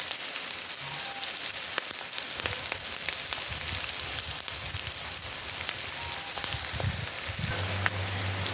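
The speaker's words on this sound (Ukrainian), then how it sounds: "Наша цигулька підтомилась і на цьому етапі додаємо морковку." Onion softening in a pan for Polish cabbage soup, a soft continuous frying sizzle with scattered pops and crackles and a few low knocks, close and moderately loud, without talk.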